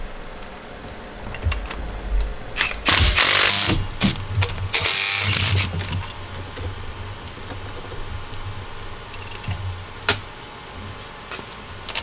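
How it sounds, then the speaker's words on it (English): A ratchet with a 13 mm socket loosens the coil rail bolts on a Jeep TJ/LJ, giving close, crisp clicking bursts with louder spells of fast ratcheting, then sparse scattered clicks and taps. "grab your 13 millimeter socket and pop off these bolts holding down the coil rail"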